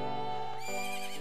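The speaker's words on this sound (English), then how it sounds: "The horse seems to like this song." A horse in the video game Majora's Mask lets out a short, bright whinny, loud and close, with no talk over it.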